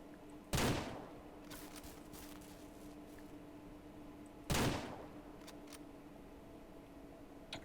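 Two sharp gunshots on a working ranch, spaced about four seconds apart, each a loud crack with a short decaying tail over a quiet outdoor background.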